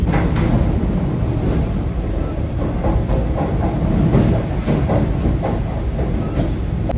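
Howrah–Puri Vande Bharat Express train running on its Kolkata to Puri route, a steady loud rumble of wheels on rails with faint clickety-clack rhythm throughout, heard from inside the coach with no talking.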